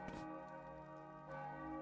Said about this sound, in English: I think they're ringing the bells because there was an intruder.